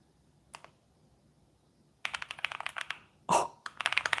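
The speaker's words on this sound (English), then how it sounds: "That's so clickety-clicky. I've never had a keyboard like this." Typing on a new clicky mechanical keyboard with more key travel than a MacBook keyboard: a dense burst of sharp, close key clicks after a quiet start, with one louder clack amid the flurry.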